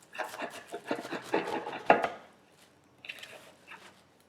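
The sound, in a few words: knife cutting Napa cabbage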